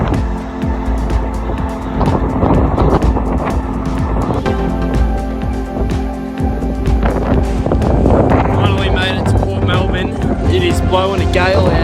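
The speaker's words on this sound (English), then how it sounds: "It is blowing a gale out here today." Strong gale wind buffeting a microphone outdoors on a long bike ride, a loud continuous roaring rumble with gusty surges throughout, no talking heard.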